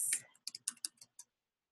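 A keyword is typed into a Facebook search box on a keyboard: about half a dozen quick, crisp key clicks in an uneven run, close and fairly quiet, after a brief trailing voice at the start.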